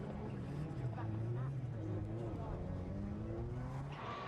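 A Subaru Impreza rallycross car loses traction and skids, its engine note wavering and sliding with tire noise, heard from a distance under a commentator's voice.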